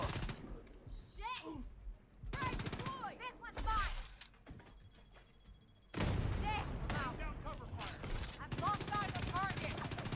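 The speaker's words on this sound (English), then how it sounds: "No, I want to see what this gun can do" Rapid automatic bursts from a high-end submachine gun in The Division 2 video game, loud and close, with short pauses between strings of shots and game voice prompts in between.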